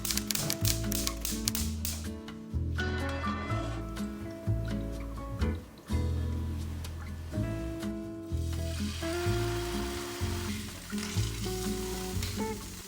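A tuna steak sizzles steadily in a hot pan, a continuous bright frying hiss that runs the whole time beneath loud rhythmic background music with a pulsing bass line.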